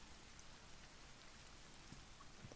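Rain falling in the survival video game The Forest, a faint, steady patter with scattered droplet ticks spread evenly across the moment, no talking.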